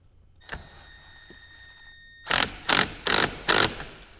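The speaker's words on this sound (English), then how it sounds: "I've got to get a impact and tighten all this down" An impact wrench tightens bolts at a car battery, firing four loud, short bursts in quick succession after a mostly quiet stretch with a faint click near the start.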